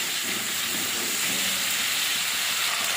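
Spice paste frying with sour yogurt in a pan for a Bengali cauliflower curry, giving a steady, close hissing sizzle that holds evenly throughout with no talking.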